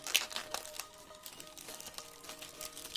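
The cardboard box and packaging of a Xiaomi Redmi Note 10S phone crinkles and rustles softly as it is opened, with faint tearing and handling sounds close by in a quiet room.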